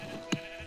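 A single short sheep bleat from the video game Minecraft, a brief digital animal cry standing out over a quiet background hum.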